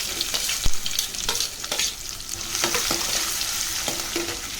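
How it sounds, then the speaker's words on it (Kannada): Two onions frying in oil with mustard seeds and cumin in a pan, a steady loud sizzle with rhythmic spatula scrapes, close by, no speech. "ಈಗ 2 ಈರುಳ್ಳಿ ಹಾಕ್ಕೊಳ್ತಾ ಇದ್ದೀನಿ."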